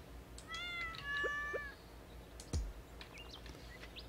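A cat in the farming game Stardew Valley gives two clear meows, followed by a sharp click and light tapping, fairly close and quiet.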